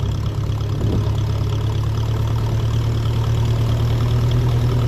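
Engine of a 1957 Ferguson 35 tractor running on TVO through a newly fitted silencer, a steady, low, throbbing drone with a rough knocking beat, close and continuous with no voices.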